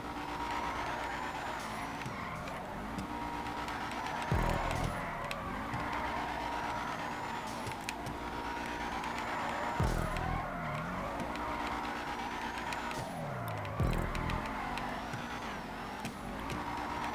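A car drifting along a player-made track in GTA 5 Online, with a continuous engine drone and repeated rising and falling tire squeals as it slides through corners, fairly quiet overall.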